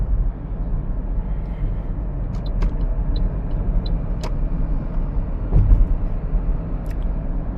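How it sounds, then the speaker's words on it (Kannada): Steady low road rumble inside a 2017 Toyota Corolla Altis sedan driving smoothly, with a constant engine and tyre drone and a few faint clicks and thumps over the ride. "ಸ್ಮೂತಾಗಿ ಹೋಗುತ್ತೆ ಗಾಡಿ, ಯಾವುದೇ ಬಂಪ್ ಅನ್ಸಲ್ಲ"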